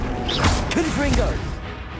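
The Confringo blasting spell cast in Hogwarts Legacy, a burst of crackling magical impact and whooshing effects, with a spoken voice heard alongside it.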